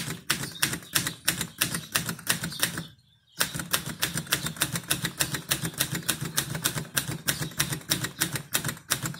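Keys struck on an Antares Parva portable typewriter, a rapid regular run of crisp clacks with one short pause partway through, close and alone.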